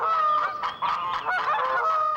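Geese at flooded Fort Gibson Lake honk repeatedly in a loose overlapping chorus, several calls close together and fairly near, with no other sound competing.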